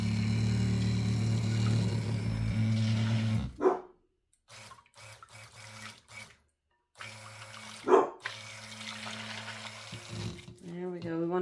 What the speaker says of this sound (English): Ignore my puppies.